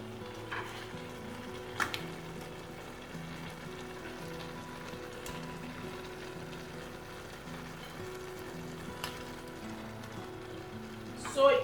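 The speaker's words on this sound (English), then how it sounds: "right now I'm going to be adding my crab" Crab sizzles steadily in a pan of seafood fried rice with chicken, a soft continuous frying hiss with a few clinks and stirring scrapes, fairly close.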